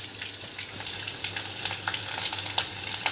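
Garlic cloves with part of their skins left on sizzle in hot oil for a tempering, with a steady fry and scattered sharp pops and crackles, close and without talk.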